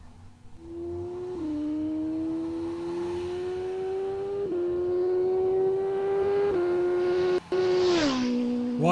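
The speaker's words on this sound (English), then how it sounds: "Alan Maines in his light green 2012 Kawasaki Ninja ZX-14R has just been released and making a run for it." A light green 2012 Kawasaki Ninja ZX-14R roars down a drag strip, a loud sustained engine whine climbing in pitch through several sharp gear shifts, then a rising whoosh as it pulls away.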